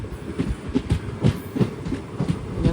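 Parasuram Express train arriving at Nileshwaram railway station, with a steady rumble and repeated rhythmic clacks of wheels over rail joints at moderate loudness, no voices.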